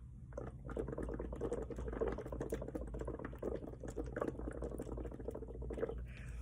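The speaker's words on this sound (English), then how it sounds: "I'm just trying to keep steady bubbles." Soft, continuous bubbling as air is blown steadily through a drinking straw into water a few inches deep, faint and close with a dense gurgling texture throughout, no voice.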